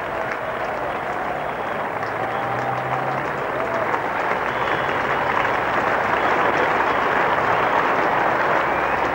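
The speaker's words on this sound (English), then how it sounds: "The applause of relief from the crowd as the 150 comes up." Cricket crowd at a 1991 England v West Indies Test at Edgbaston applauds Haynes reaching 150, a steady broad wash of clapping from the stands that holds for several seconds with faint voices mixed in.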